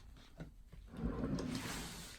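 A bra drawer in a bedroom is pulled open, a soft wooden sliding rub with a couple of light knocks before a longer scraping slide.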